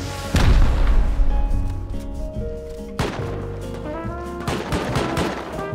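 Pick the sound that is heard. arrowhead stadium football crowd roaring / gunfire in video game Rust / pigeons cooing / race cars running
gunfire in video game Rust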